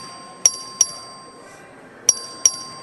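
A bell in the Texas House chamber is rung by the clerk for a record vote, two pairs of sharp metallic dings, each strike quickly decaying, over a quiet room.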